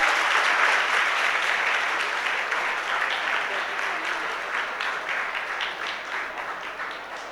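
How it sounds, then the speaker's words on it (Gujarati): Loud sustained applause from a school audience honouring students, a dense roar of many hands clapping that slowly fades over several seconds. "આ બધા માટે જોરદાર તાળીઓ થઈ જાય."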